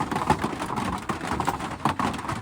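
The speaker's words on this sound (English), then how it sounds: "As you can hear, it's raining outside too." Rain falls outside during a stay somewhere in the western USA, giving a dense, steady patter with soft rumbling and no clear breaks.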